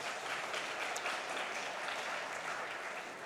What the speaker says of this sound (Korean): 우리 주일학교 우리 큰 박수 하겠습니다.